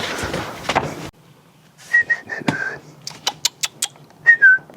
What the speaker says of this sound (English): Don't know why I whistle at them like dog.